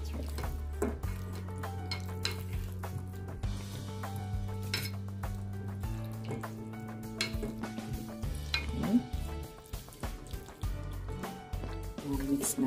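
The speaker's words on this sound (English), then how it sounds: "Haluin ang ating oyster." Metal utensil scraping and clinking in a pan as fresh oysters are stirred with egg, light sizzling underneath and a steady hum, with a person talking throughout.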